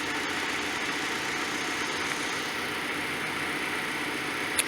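A car engine keeps idling after a long-term parking kill switch is toggled off and on, a steady mid-low rumble and vibration that runs unbroken and fairly loud throughout.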